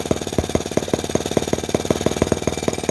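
A Microcosm T26 model tractor with a 1.9cc gasoline engine runs in gear, its tiny motor firing in a rapid, steady, even chatter that stays loud and close throughout.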